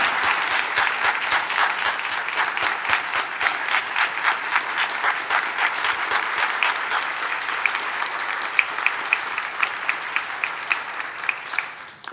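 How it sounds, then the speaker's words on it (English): Sustained, dense applause from a large audience at the 2021 Hall of Fame and Brendan Hayes awards ceremony, loud and steady for about twelve seconds before cutting off. "Let's give them a big round of applause."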